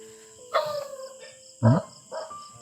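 A few dog barks, spaced irregularly, with one deeper loud bark in the middle and a faint whine between.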